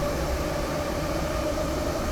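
An older Moscow metro train runs steadily at an outlying station away from the city center, a continuous loud rumble and wheel roar with a faint tonal hum and no voices.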